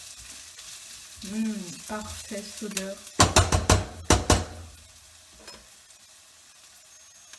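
Onions sizzle and frying in a pan, stirred in a quick burst of loud scraping strokes midway, under a voice speaking French, then the sizzle settles back to a steady low crackle.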